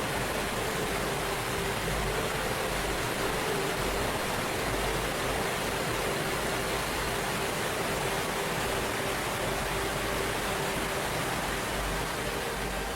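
Fossa Waterfall on Streymoy in the Faroe Islands roars as a steady, dense broadband rush of falling water, constant and unbroken, heard at a moderate distance with no voices.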